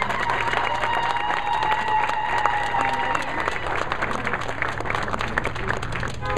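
Crowd applause at an outdoor flag raising ceremony in Washington DC, a dense, steady clatter of many hands that keeps up through the whole stretch, with faint voices and a tonal whine running under it.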